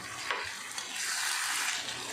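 Ground coriander, cumin and turmeric frying in a pan while being stirred, a steady close sizzle with scraping strokes of the spoon running under it, no voices.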